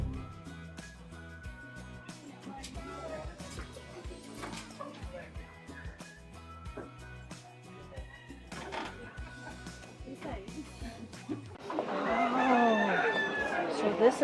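Chickens and a rooster at a shop in Bangkok, with clucking scattered through and a loud, drawn-out crow near the end, mixed with people talking and street noise.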